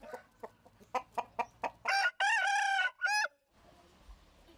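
A fighting cock bred in Thailand gives a run of rhythmic clucks, followed by a loud, close crow in several drawn-out bursts that ends in quiet background.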